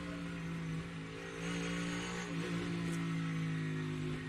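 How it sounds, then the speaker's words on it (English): An IndyCar engine holds a low, steady droning throttle through a slow section of the Indianapolis road course, a single sustained note that swells slightly partway through. "listen to the throttle, how slow this part of the racetrack is"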